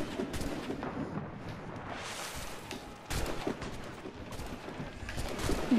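Cannon fire from a pirate ship in Assassin's Creed Black Flag, a series of loud booming blasts over constant rumbling battle noise, with sharp bursts near the start and around the middle.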